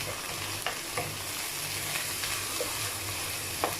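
Chopped tomatoes fry in a pan over a medium-low flame while a spoon stirs them, a steady close sizzle broken by occasional scraping clicks, with no voices.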